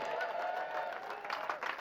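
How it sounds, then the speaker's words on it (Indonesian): An audience at a comedy superhero show in Garut claps and cheers together in a sustained burst of applause, heard at a moderate distance with crowd murmur mixed in. "Boleh tepuk tangan."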